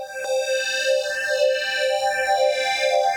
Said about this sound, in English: It's a really nice sounding phaser.